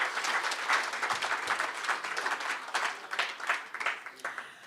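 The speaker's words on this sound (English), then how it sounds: "give him a round of applause, please" An audience at a swimming club's awards evening applauds steadily and fairly loudly in a hall, a dense wash of many hands clapping throughout.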